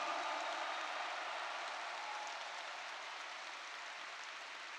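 A large audience applauds steadily at a religious rally, a dense, even wash of clapping that holds for the whole stretch and fades only slightly toward the end.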